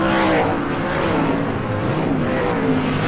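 Race cars at Premier Speedway in 1986 make a continuous roar of engines, a dense broadband drone heard from a distance that holds steady throughout, with no clear single pass standing out.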